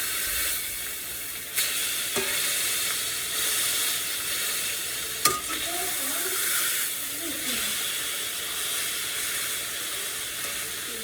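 Seasoned meat fries in grease with a continuous loud sizzle and crackle, broken by a couple of sharp pops and the scrape of the meat being flipped in the pan.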